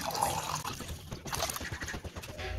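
Water poured into a pot of rice being cooked as ghee rice, a soft, close, continuous trickle with faint splashing.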